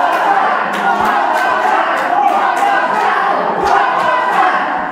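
A wrestling crowd at a live show chants in unison, a loud, dense mass of voices with a steady pulsing rhythm of rhythmic claps or stomps, close and filling the space.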